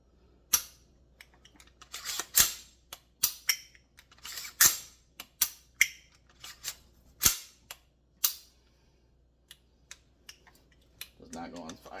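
A pistol with an aftermarket trigger gets a function check after field stripping: a quick run of sharp metallic slide racks and trigger clicks, close and irregular, with brief handling noise at the end.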